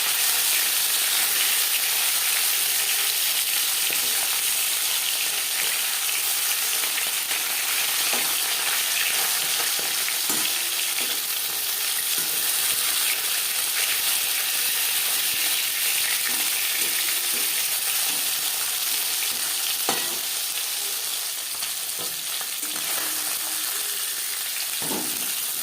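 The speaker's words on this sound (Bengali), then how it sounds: "মাছ ভেজে নেওয়া হয়ে গেছে" Pieces of shol fish fry in hot oil, a steady close sizzle with faint crackles and occasional small pops throughout, with no one speaking.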